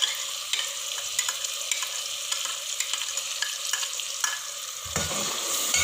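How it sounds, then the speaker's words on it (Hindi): A steady, loud sizzle of garlic-ginger paste and chopped green chilli frying in a hot pan for a white bean masala, with soft scrapes of stirring breaking through at irregular moments. "इसको अच्छे से भून लेंगे"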